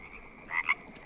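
A frog in the survival game Green Hell gives a couple of short, close croaks over a faint jungle background.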